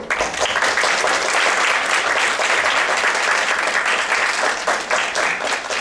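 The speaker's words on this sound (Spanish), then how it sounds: "así le damos un aplauso, por favor" An audience in a lecture hall applauds a speaker introduced as a family and couples therapist, with loud, dense clapping that swells quickly and carries on steadily for several seconds.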